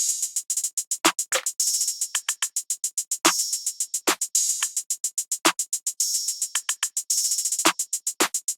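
A steady, rapid hi-hat pattern with intermittent open hat hits, programmed in FL Studio and run through Fruity Delay, crisp and bright, repeating in a tight loop with no voices.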